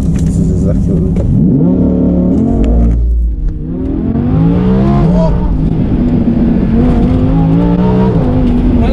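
Lamborghini Huracan engine revving from inside the cabin, a loud continuous roar that rises and falls through several pitch sweeps while people talk over it.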